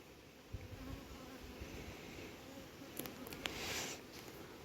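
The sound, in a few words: honeybees buzzing at an apiary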